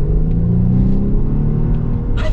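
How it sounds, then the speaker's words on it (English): A 2020 Volvo XC60 T8 E-AWD Polestar plug-in hybrid with a four-cylinder engine accelerates from a stop. Its loud, steady engine rumble holds throughout, and a brief broadband burst comes near the end. "this is as close as we're gonna get to like an acceleration from a stop"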